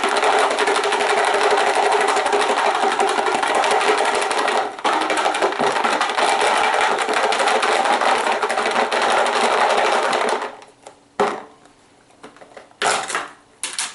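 Giveaway draw entries are shaken in a container, a loud continuous rustling rattle lasting about ten seconds, then a few separate shuffles and knocks before it goes quiet.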